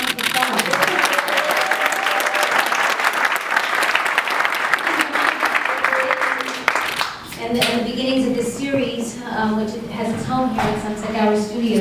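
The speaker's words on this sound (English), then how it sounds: "Let's give my mom a round of applause." An audience at a film event applauds a speaker's mother with steady, full clapping for about seven seconds, after which the applause fades and a voice begins talking.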